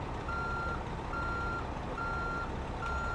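Backup alarm of a reversing truck in American Truck Simulator, four evenly spaced beeps over a constant low engine drone, moderately loud and without talk.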